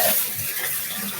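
Hot water runs from a tap in a steady, close, hissing gush throughout the short moment, with no talk over it.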